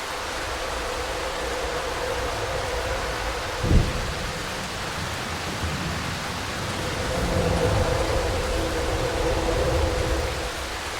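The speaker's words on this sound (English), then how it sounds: "can you stop raining?" Steady rain pours in the Darkwood horror game, a constant close hiss with a brief thump near the middle and a slight swell toward the end.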